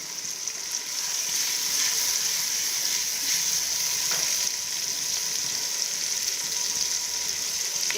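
Crushed garlic, green chilli and tomato frying in a pan, a steady loud sizzle that continues unbroken, with occasional soft clicks of stirring.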